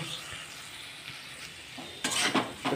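Spice masala being stir-fried in a pan, with a steady close sizzle under scraping strokes of a spatula that grow louder and busier toward the end.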